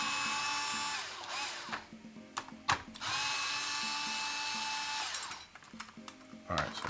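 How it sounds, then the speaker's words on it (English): A power drill whines in long, steady runs, stopping briefly and starting again, with a few clunks between bursts, while working on a 3D printer. "that's what this drill is for,"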